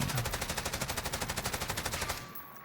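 A Bruen Mk9 rifle firing in Call of Duty Warzone: a steady, rapid stream of about twenty evenly spaced shots over two seconds, close and sharp, then it stops and a quiet tail remains.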